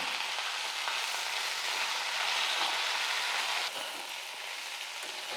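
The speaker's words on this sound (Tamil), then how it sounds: "நல்லா ஒரு ரெண்டு நிமிஷத்துக்கு வந்து புதினா எண்ணெயில் வந்து நல்லா வதக்கிக்கலாம்" Mint leaves sautéing in oil in a pan, a dense, steady sizzle that drops slightly in level toward the end, with no talking.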